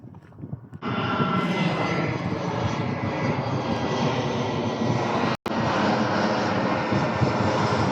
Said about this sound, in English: There's a plane going into Southend Airport, I believe.